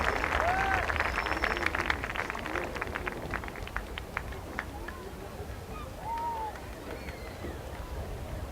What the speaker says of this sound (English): Please give another round of applause for all of our homecoming attendants and homecoming queen 2014, Miss Destiny Loudon.